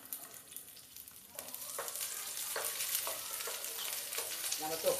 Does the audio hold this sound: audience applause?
no